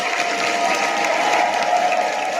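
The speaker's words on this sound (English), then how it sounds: "I give that a round of applause" Steady, dense clapping from a group of people carries on without a break for a couple of seconds.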